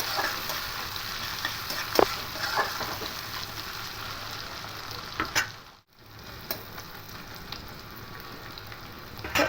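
Onion and green chilli stir-fried in oil for a fish curry, a soft continuous sizzle broken by intermittent spatula scrapes and taps, with one brief drop-out partway through; no one speaks.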